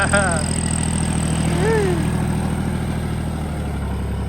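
A John Deere 5310K tractor engine runs at a steady, even idle-like rumble close by, a continuous throbbing drone under a voice that rises briefly in pitch before settling.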